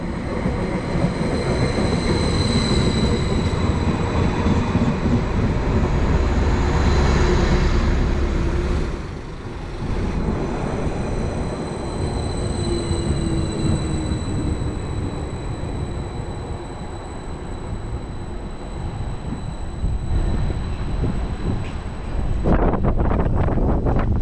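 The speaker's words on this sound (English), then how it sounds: "This should be the 10:55 Greater Anglia service to Felixstowe, which we're taking to Derby Road" Greater Anglia train bound for Felixstowe, a loud sustained rumble of wheels and running gear with wind buffeting, a short dip midway, then a rising rattle near the end, no speech.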